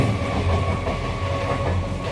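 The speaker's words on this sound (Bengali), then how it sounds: "আর এত ট্রেনের আওয়াজ" A train rolls past up close with a loud, continuous low rumble and a steady mechanical drone. It sounds throughout without any break and with no talking.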